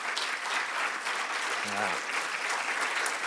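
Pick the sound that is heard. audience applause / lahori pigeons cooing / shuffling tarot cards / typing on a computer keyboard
audience applause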